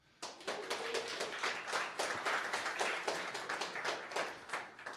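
An audience at an AI meetup claps for demo presenters, a dense, steady patter of many hands lasting several seconds, somewhat distant and fairly quiet, with no distinct cheering.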